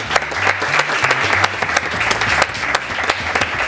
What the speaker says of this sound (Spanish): que se merecen un aplauso